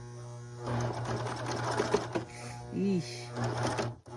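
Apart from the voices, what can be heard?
serger sewing through denim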